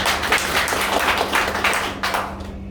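An audience claps loudly and steadily for a man named Jai Singh Yadav at a heat stress safety training session, a dense wash of hand claps lasting a few seconds under a constant low hum, with no talking.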